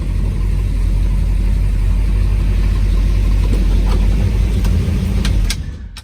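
A 1964 Ford Galaxie 500XL with a 428 engine and a new Holley 750 cfm carburetor runs loud and steady up close, its low rumble holding even before easing off at the very end.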